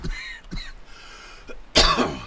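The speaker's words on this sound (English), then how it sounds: "I have this cough. I cannot shake, people." A person coughs several times: a few short, soft coughs with pauses between them, then one louder, harsher burst near the end, close to the microphone with no other sounds around.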